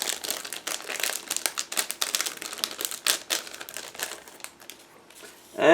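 A plastic bag holding bonus parts for a Flyhawk 1/72 Panzer II Ausf J model kit is crinkled and opened up close, a dense run of crackling rustles that thins out, then a loud final crinkle.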